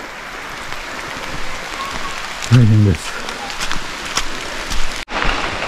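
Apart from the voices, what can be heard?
heavy rain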